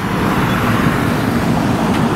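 Steady traffic noise from many vehicles moving up and down a hillside road in Los Angeles, a continuous distant roadway hum with no talking.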